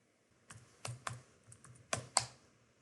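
A handful of keys are tapped on a computer keyboard while entering a spreadsheet formula. The crisp clicks are close and come in a short irregular burst against a quiet background.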